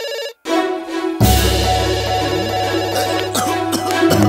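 A telephone rings loudly with a repeated electronic tone, starting after a brief silence and carrying on under music and other sounds.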